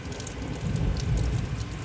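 Thunder rumbles low and steady through a heavy rainstorm, swelling in the middle and holding as a dense, continuous roar with rain hiss over it, no voices present.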